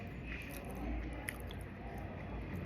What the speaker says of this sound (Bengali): এখন আমি আমাদের স্টাইলে কাঁঠালের তরকারি খাচ্ছি।